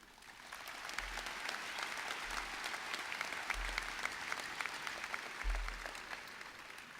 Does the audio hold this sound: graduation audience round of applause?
yes